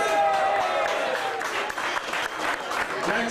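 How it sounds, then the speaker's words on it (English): Wedding guests applaud after a speech, a full round of clapping from a roomful of people that swells and stays dense, with voices mixed in at the start. "Big round of applause for Laura, please."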